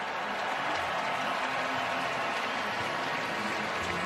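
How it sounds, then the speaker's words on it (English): Big Friday-night baseball crowd at American Family Field: a steady, broad roar of murmuring spectators filling the stadium, even and unbroken, with no distinct voices standing out. "Pretty big crowd here at American Family Field on this Friday night."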